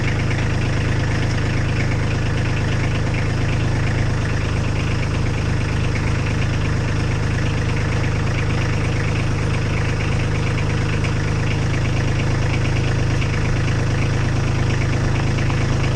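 A Kubota B2601 compact tractor engine runs at a steady, loud idle-like drone with a slight knock while raising a carryall on its hitch, with no talk over it.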